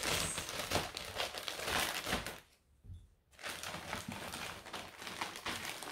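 A mail parcel being unwrapped and opened by hand, with steady close crinkling and crumpling of packaging that pauses briefly midway, then resumes just as busily.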